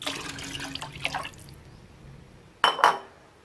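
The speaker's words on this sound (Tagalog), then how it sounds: "Dagdagan ng tubig." Water is added to a pot of chicken broth, a soft pouring and dribbling followed by a louder splash and clatter near the end.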